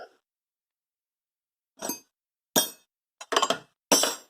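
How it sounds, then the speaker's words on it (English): Old Craftsman wrenches knocked together while being sorted, five or six sharp metallic clinks in separate bursts, close and clear after a quiet start. "let's find an old flare wrench if I have one"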